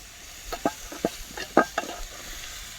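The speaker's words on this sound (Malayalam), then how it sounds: "സവാള നല്ല പോലെ വഴറ്റി കിട്ടണം. വഴറ്റിയെടുക്കാം." Sliced onions sautéing in a pan for chicken curry outdoors in a forest, with a spoon stirring in several distinct scraping strokes over a low, steady sizzle.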